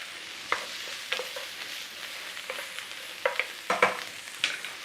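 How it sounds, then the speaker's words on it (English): Onions frying in a pan, with a spoon scraping and stirring at several points over a steady soft sizzle and no voices. "I'm going to chuck in our onions. Now you can put garlic in as well if you want"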